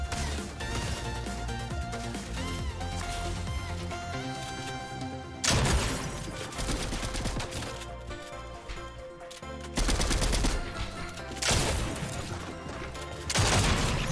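Gunfire in Fortnite, rapid bursts of shots and impacts in several loud clusters separated by short gaps, layered over continuous game music and effects.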